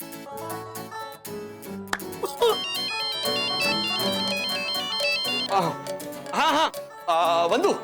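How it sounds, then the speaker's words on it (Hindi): A mobile phone rings indoors with a bright, repeating electronic tune that stays loud for several seconds. Voices come in over it near the end. "मैं राज को फोन करके बुला लेती हूँ।"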